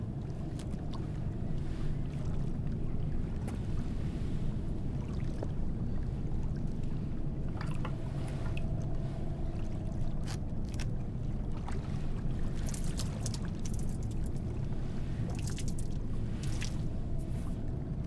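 Steady water sloshing and splashing in the horror game Silent Hill f, a continuous low churning wash with occasional brighter splashes, moderately loud and without talk.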